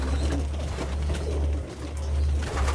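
Pigeons coo softly and steadily in a loft where loose-flying and caged birds are kept, with low cooing continuous across the whole stretch and no talk.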